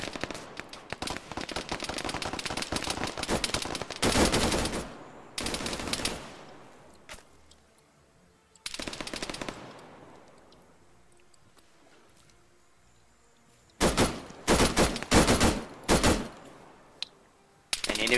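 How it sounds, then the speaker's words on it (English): Bursts of suppressing gunfire in an Arma 3 firefight, loud rattling automatic volleys in clusters separated by quiet gaps, with echoing tails trailing after each burst. "I literally think that was just random suppressing fire."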